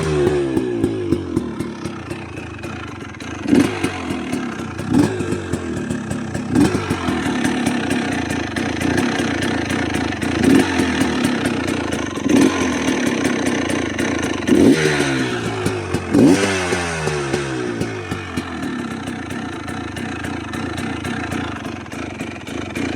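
A brand new GPX 300L TSE motorcycle idles close by with a steady, slightly uneven engine note, punctuated by several brief throttle blips over about twenty seconds, with no talking.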